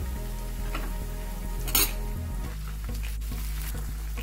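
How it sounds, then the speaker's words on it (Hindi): Tomato puree going into a pan of light-brown onions frying for dhaba-style paneer bhuna masala, with steady close sizzling and frying throughout and a brief louder splash of hissing as it lands, then continued stirring and sizzle. "अब इसके बाद हम डाल देंगे 2 टेबलस्पून टमाटर प्यूरी।"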